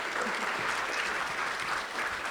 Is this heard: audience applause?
yes